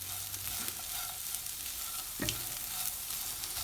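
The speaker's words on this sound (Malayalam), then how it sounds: "നമുക്ക് തേങ്ങാക്കൊത്തും കൂടി ഇതിൻ്റെ കൂടെ ഇട്ട് കൊടുക്കാം." Coconut pieces dropped into a pan of bitter gourd curry sizzle and crackle steadily while a spoon stirs with soft scraping, close and clear with no talking.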